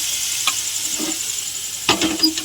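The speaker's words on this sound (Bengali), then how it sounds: "মশলাটা ভালো করে কষে নেব।" Spice paste with red chilli sautéing in a pan for ghugni, a soft steady sizzle with a few stirring scrapes, louder near the end.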